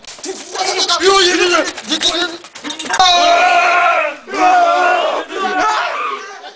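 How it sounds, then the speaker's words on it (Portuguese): Angry crowd roaring in a school play, with several young voices shouting together in loud, rough bursts separated by brief dips. "A multidão urrou furiosa, bufando de raiva, indignada"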